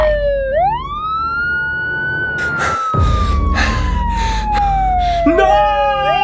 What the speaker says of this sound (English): I hear the sirens. The police are coming.